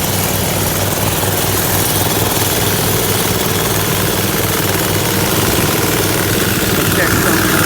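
Two pressure washer engines on a trailer run loudly and steadily at idle, a constant mechanical drone with a throbbing low rumble and no breaks.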